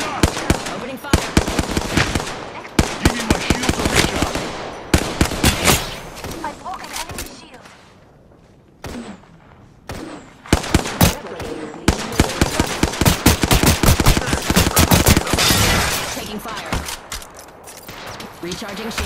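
Rapid gunfire in the shooter Apex Legends, loud dense bursts of automatic shots and impacts crackling through most of the stretch, with short lulls and a few spoken callouts in between.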